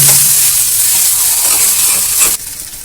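Spiced potato filling for aloo chop, made with ginger and a little sugar, fries in a pan with a loud, close, steady sizzle and hiss while being stirred, until the sizzle suddenly drops away near the end.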